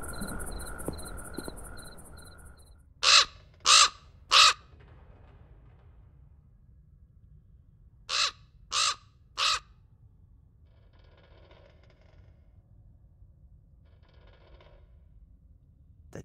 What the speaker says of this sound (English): The damn bird again.